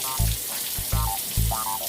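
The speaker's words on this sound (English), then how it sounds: "the key is to rinse everything" Beef franks for Coney dogs are rinsed under running tap water, a steady close splashing hiss with three brief louder bursts as the franks pass through the stream.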